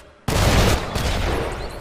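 A dense, roaring explosion from the video game Badland hits suddenly after a brief quiet moment, then rumbles loudly and steadily with a crackling blast texture and no voices.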